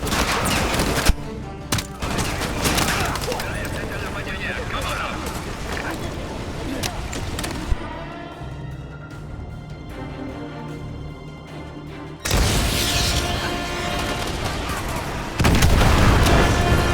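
AGM missile strikes exploding in Call of Duty: Modern Warfare 2, heavy booms and rolling gunfire bursts, loud and dense, easing into a quieter stretch before the blasts surge again near the end.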